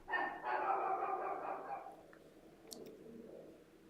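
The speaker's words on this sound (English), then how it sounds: "What is Miss Lily barking at?" A dog barks twice in quick succession at a distance, faint and outdoors, followed by quieter trailing sounds.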